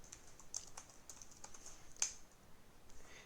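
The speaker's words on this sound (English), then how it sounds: "And I'm going to type sudo ifconfig." Someone types a short command on a computer keyboard, a quick run of faint, close key clicks with one sharper tap, in a quiet room with no talk.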